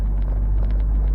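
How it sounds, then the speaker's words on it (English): Old Ford F100 truck with a small six-cylinder engine and a hole in the exhaust, a steady low rumble heard up close while driving, continuous and fairly loud with no talking. "It sounds good, even with that hole in the exhaust. A little 6-cylinder, you can barely hear it"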